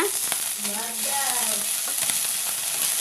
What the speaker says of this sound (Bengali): পুঁটি মাছ ভাজি দিচ্ছি